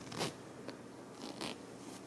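An American Apparel disco pants zipper being zipped up: a couple of brief rasping zips close by, with small fabric rustles between them and no talk.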